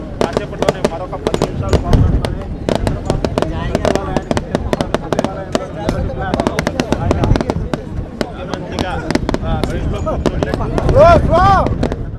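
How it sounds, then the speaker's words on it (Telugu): Rapid, irregular bursts of firecrackers crackle continuously and loudly at a welcome for Chief Minister Chandrababu Naidu, with voices shouting in the crowd underneath. "ఒకవైపు టపాసులు పేలుస్తూ మరోవైపు పూలు చల్లుతూ చంద్రబాబుకి స్వాగతం పలుకుతున్న"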